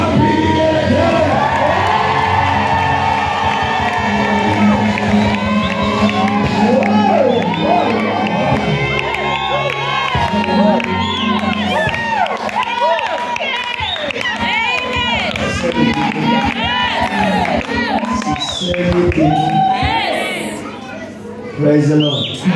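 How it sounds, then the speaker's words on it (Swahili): A church congregation erupts in ululation and cheering, many high trilling voices and shouts overlapping in a loud, sustained burst that carries on for some twenty seconds before tapering off. "Wapi vigelegele?"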